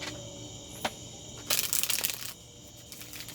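A burst of crisp, papery riffling as tarot cards are shuffled in a gazebo, lasting under a second, with a single sharp snap just before and quiet outdoor background.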